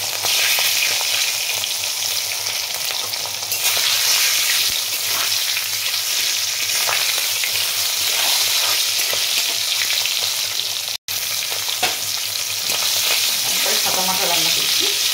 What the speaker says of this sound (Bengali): লঙ্কা আর 5 ফোড়ন দিচ্ছি